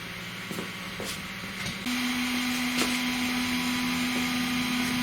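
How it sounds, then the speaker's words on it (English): Small cooling fans on a laser module and its Arduino circuit board spin up into a steady, close whir with a faint tonal hum, holding constant after a few light clicks. "now that whirring that you can hear actually is the little fan on top of the laser and the little fan on the laser circuit board"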